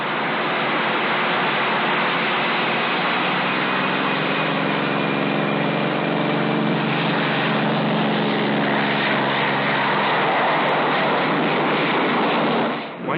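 A propeller aircraft roars steadily through a jet-assisted takeoff, with rocket units firing for extra thrust under a loud, continuous, band-limited engine drone that fills the whole stretch alone.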